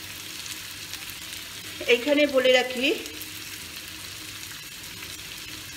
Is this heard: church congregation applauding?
no